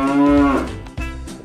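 Cartoon cows moo loudly in two long, close calls, the first drawn out and the second following after a brief gap.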